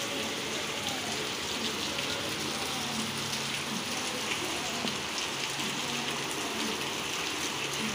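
A loud, unbroken downpour of heavy night rain drums and hisses nearby as water floods a street until the drain and road merge into one, with no voices cutting through.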